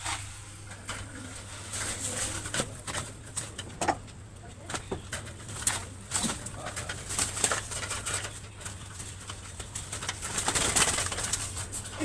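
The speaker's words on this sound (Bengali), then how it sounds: "আজকে খাঁচাতে কবুতর ছাড়বো" Pigeons coo softly in a newly built cage, with scattered wing flaps and scuffling taps over a steady low hum, moderately close.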